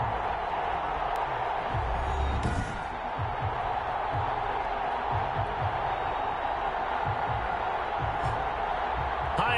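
A stadium crowd in the Madden 21 American football game roars steadily before a Denver Broncos matchup, holding a broad, constant wash of noise beneath a commentator talking.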